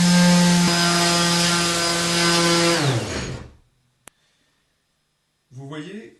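A vibrating sander works along the grain of wood with a loud, steady motor hum, then winds down to silence after a few seconds, followed by a brief sharp tick and a short burst of voice.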